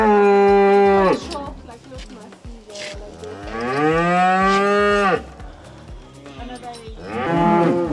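Longhorn cattle, a rare breed, moo loudly and close by: a long drawn-out low call, a second sustained bellow, and a shorter one at the end, with short gaps of quiet between them.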